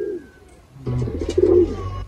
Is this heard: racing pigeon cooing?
yes